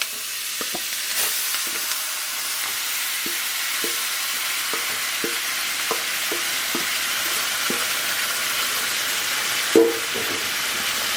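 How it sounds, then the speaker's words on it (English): Turkey neck searing in a pot for a Jamaican curry, giving a steady sizzle and faint crackle with scattered light pops and stirring clatter throughout, no talk. "we're just gonna sear the turkey neck for a few minutes just to seal in some of that seasoning"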